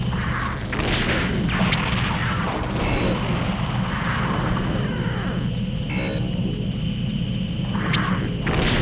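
Explosions in the Gundam mecha game Zeonic Front, with Dom mobile suits in battle: dull booming blasts over a continuous loud rumble of combat noise, with sharp high whistling sweeps recurring now and then.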